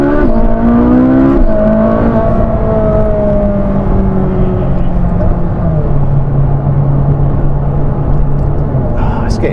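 A Ferrari 458 Spider engine drones loud and close, its pitch rising through a rev and then settling into a sustained, slowly falling hum with a gear step midway, heard from inside the car against steady road rumble.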